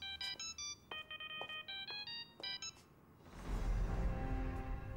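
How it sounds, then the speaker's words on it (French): A telephone rings indoors in a French TV drama, a series of electronic trilling ring bursts in quick repeated pulses, moderately loud, followed by a swell of room noise and rustling as it stops. "Le téléphone."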